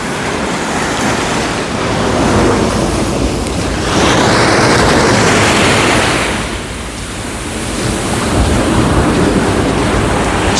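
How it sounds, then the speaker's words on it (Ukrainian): Steady, roaring wind buffets the microphone on a seaside pier in Odesa, rising and falling in broad gusts with a constant hiss of surf-like noise and no talking. "На пірсі є вітер"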